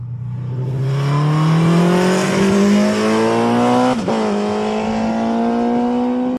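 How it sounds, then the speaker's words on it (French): A loud car engine with a five-speed gearbox revs up through a long pull on a race circuit, pitch rising steadily, then a quick gear change and it climbs again, close and continuous. "Fred est reparti sur le circuit afin de découvrir encore un petit peu plus l'engin."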